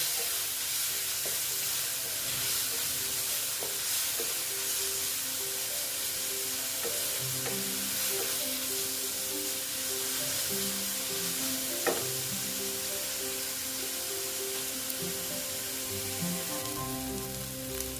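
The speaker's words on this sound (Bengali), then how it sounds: "এটা দিয়েও আমাকে ভালো মতো কষাতে হবে যতক্ষণ পর্যন্ত এর কাঁচা গন্ধটা না যায়" A paste of ginger, garlic and green chili sizzles and fries steadily in a pan, with occasional stirring scrapes and pops over the continuous hiss, and no talking.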